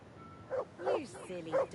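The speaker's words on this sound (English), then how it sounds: "You silly doggy." Dog in the medieval video game Kingdom Come Deliverance 2 giving a few short, close yips and whimpering barks in quick succession, moderately quiet.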